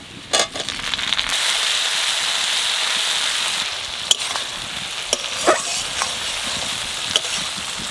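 Cashews and tomato frying in a pan, a steady close sizzle with a few sharp pops and crackles of spitting oil, no talking.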